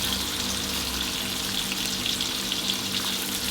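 Finely sliced onions fry until soft for a coconut fish curry, giving a dense, continuous sizzle that stays close and steady throughout, with no voices.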